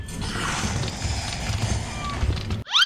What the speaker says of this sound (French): Le bruit, c'est le bruit de ses pas!